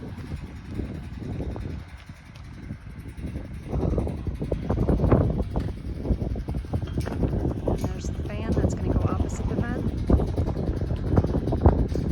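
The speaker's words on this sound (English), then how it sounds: "It's a little bit windy today." Low, gusty wind buffets the microphone with rumbling bursts, while voices talk faintly in the background.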